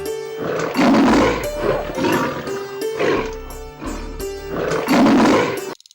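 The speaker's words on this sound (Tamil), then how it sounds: "அப்போது சிங்கத்தின் கர்ஜனை சத்தம் கேட்டது." A lion in a Tamil children's moral story of the lion and the mouse gives loud, close roaring calls, several long rolling roars in succession with brief pauses between, no talking.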